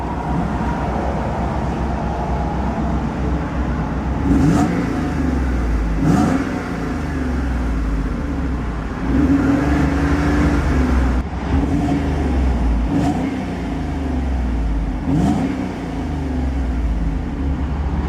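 A 1991 Mercedes-Benz 500SL roadster engine starting and running, its exhaust idling close by with several rising revs that swell and fall back, a steady low rumble between them and no talking.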